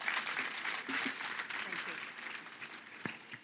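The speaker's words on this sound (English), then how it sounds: "A big round of applause," Audience applause at a literary festival closing ceremony, a broad steady patter of many hands clapping throughout, moderately loud and continuous without a clear break.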